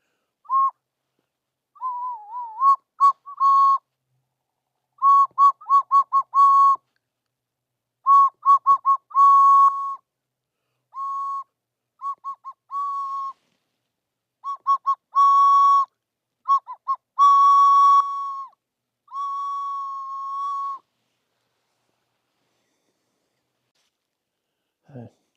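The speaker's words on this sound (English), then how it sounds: "Let's try out my whistle." A hand whistle blown on a lake hike sounds in a series of short bursts and longer sustained tones, some warbling, separated by pauses and heard alone in quiet surroundings.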